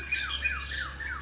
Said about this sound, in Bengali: কি সুন্দর কোকিলগুলো ডাকছে